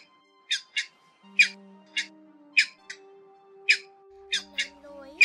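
Grey heron flock calls played as a night net-trap lure: harsh, repeated squawks in irregular bursts, loud and close, over faint whistling tones.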